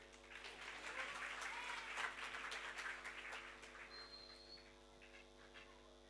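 An audience claps at an Indian book launch for Sudhanshu Kaushik's "The Future Is Ours", a fairly faint, brief burst over a steady hum that fades within a few seconds.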